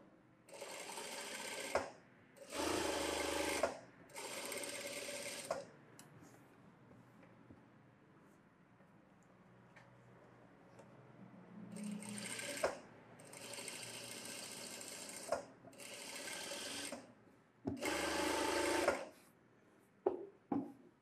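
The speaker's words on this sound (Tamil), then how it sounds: "அந்த மார்க்கு மேலே தையல் போடணும்" Sewing machine stitching a blouse along a marked line, running in several loud, even bursts of a few seconds each, separated by quiet pauses with faint handling.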